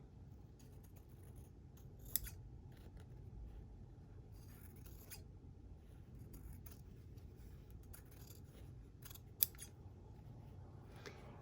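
Scissors trim a frayed fabric edge close to a zigzag-finished seam, producing soft, steady snipping and scraping with a couple of sharper clicks, close and quiet, with no talking.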